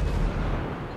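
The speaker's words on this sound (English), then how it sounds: "That's not a regular explosion, boys. As a demo expert, that's a chemical explosion right there." A demolition charge explodes in a video game with a single deep, rumbling boom that fills the moment and slowly decays, with no talk over it.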